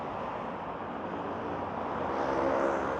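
Busy road traffic streams past in a continuous broadband roar and hiss, swelling slightly as vehicles pass close by, with no voices.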